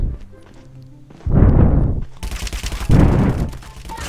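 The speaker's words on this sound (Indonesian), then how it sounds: "Wow, shotgun, shotgun serem kali." Shotgun fire in COD Mobile: two heavy booming blasts about a second and a half apart, each with a rumbling tail, set over quieter game noise.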